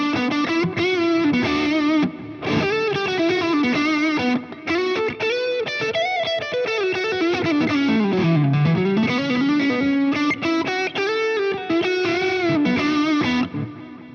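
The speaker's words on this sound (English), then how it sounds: "Let's put some reverb on and some delay on the neck pickup still." Electric guitar on the neck pickup, played through an Ibanez rig and a Boss IR-2 amp-and-cabinet unit with reverb and delay, sustained loud chords and melodic lines ringing out with long echoing tails and no talking.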